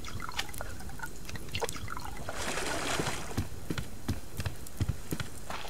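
Water bottles are filled in the survival video game Subsistence, a soft steady pour and trickle with scattered drips and small knocks, quiet and continuous throughout.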